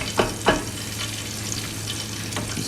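Battered shrimp fry in hot oil, a steady close sizzle with a couple of brief louder crackles and stirring clatters early on, then a constant bubbling hiss with no voices.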